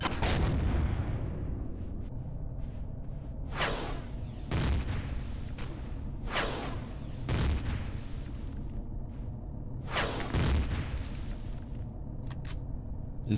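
Turret gunfire in the Empyrion Galactic Survival space game: a series of heavy, booming shots spaced a second or two apart over a steady rumbling background, loud and close, without speech.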